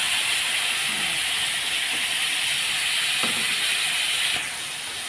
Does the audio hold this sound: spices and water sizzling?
yes